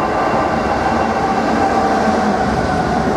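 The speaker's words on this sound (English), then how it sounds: "now coming through platform 1 is intermodal service 4 Mike 29 from Felixstowe North Terminal to Birch Coppice Terminal." Intermodal container freight train hauled by a Class 66 locomotive, 66735, rumbles loudly and steadily through a station platform, a close, continuous roar of wheels and wagons.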